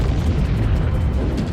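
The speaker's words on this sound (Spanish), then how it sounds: "La bomba, que se probó aquí hace 70 años, convirtió la noche en día" Atomic bomb test explosion in a desert landscape, a dense, continuous low rumbling roar that stays loud and heavy throughout, with no voices.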